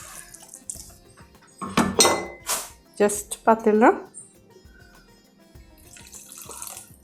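Water poured in a small splashing stream into a pan of potato masala, bursts of pouring and trickling across a few seconds, close by, with a person talking around it.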